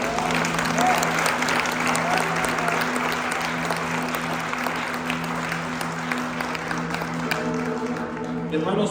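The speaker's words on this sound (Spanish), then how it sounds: "¿Le puedo dar un fuerte aplauso a Dios?" A church congregation breaks into loud, sustained applause, a dense wash of many hands clapping at once that holds steady before tapering near the end, with voices faintly beneath.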